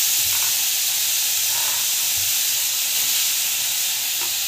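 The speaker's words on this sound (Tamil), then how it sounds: "டொமேட்டோ, பச்சை மிளகாய், கேரட், நல்லா வந்து வதக்கிடுங்க" Tomato, green chili and carrot sauté in oil in a pan, giving a steady broad sizzling hiss with faint low stirring knocks, continuous and close throughout.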